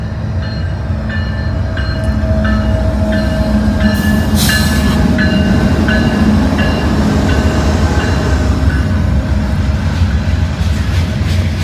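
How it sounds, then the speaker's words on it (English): A Norfolk Southern steel coil freight train rolls past close by on a cold morning at Canal Ridge, Cincinnati, with a loud continuous rumble, rhythmic clicking wheel beats and a faint metallic squeal. "we got a steel coil train, Norfolk Southern right here."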